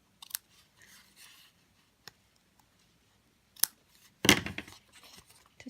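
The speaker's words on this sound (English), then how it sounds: "Snip the end." Scissors snip the end of a ribbon during card making, a few sharp, close cuts spread out among quiet paper handling, with one louder, longer crunchy snip near the end.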